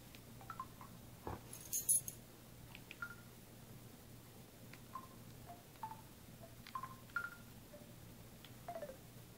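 Short electronic beeps and chirps from a mobile phone keypad, several scattered tones at irregular intervals, faint and close over a low steady hum, with one louder burst of clicking near the start.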